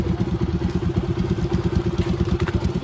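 A motorcycle engine turns over and settles into a steady, thumping idle, close by and loud, its rapid low pulses running throughout with a faint clatter on top.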